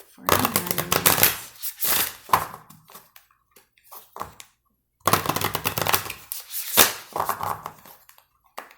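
Tarot cards shuffled by hand close up in repeated riffling bursts with short gaps, while a voice talks at intervals.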